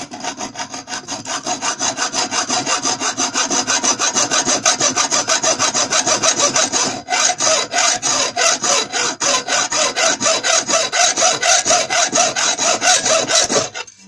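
A hand saw cuts through the metal legs of a Pentium 4 CPU cooler in steady back-and-forth strokes, loud and close, with one brief pause midway and no talking.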